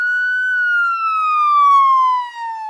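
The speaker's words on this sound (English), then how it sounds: "it's a siren." A single steady police siren tone slowly slides downward in pitch, loud and clean, with no other sounds.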